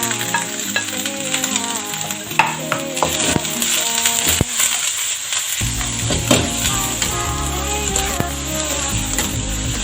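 Cabbage hits hot liquid for sotanghon soup, giving a steady close sizzle mixed with clattering and stirring, over faint background music.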